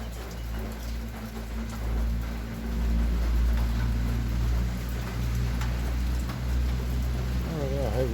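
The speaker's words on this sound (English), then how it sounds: "so it started raining" Steady outdoor rain patters on surfaces during an afternoon shower, a dense, constant hiss with a low rumble beneath and a brief tonal warble near the end.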